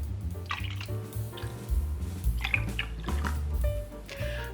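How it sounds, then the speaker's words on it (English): Two cups of milk poured into whisked eggs for bread pudding, a soft intermittent trickle and splash over a steady low background hum, fairly quiet, with no voices. "we're gonna add 2 cups of milk."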